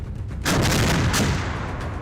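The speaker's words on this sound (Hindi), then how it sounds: "K9 वज्र एक ऐसी बख्तरबंद तोप है जो पलक झपकते ही एक ठिकाने पर हमला करने के बाद दूसरी जगह पर अटैक कर सकती है" A K9 Vajra self-propelled armoured artillery gun fires one sudden, loud blast, followed by a heavy rumbling roar that carries on to the end.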